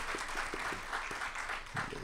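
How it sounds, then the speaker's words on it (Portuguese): Applause for a lecturer at the close of a talk in a literary criticism lecture series, a steady wash of clapping at a moderate level with no voices over it. "Eu quero eh, pedir uma salva de palmas para Roberto Azizelo ele merece"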